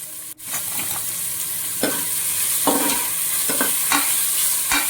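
Two long-sliced onions fry in a pan with a steady sizzle, broken by several distinct scraping and clattering strokes as a spatula stirs them. The sound is close and fairly loud, with no talking.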